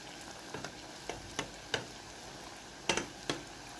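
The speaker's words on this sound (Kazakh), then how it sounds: "Одан кейін бауырсақтарымызды біртіндеп салып, сатып пісіреміз." Cheese dough balls (baursak) fry in hot oil with a soft, steady sizzle, broken by several faint ticking pops and light clicks spaced unevenly, close and quiet with no voices.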